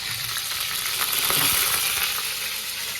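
Stuffed brinjals sizzling in a tempering of cumin, mustard seeds and turmeric in hot oil, a continuous close hiss with soft crackles and a few clinks of a utensil, no speech.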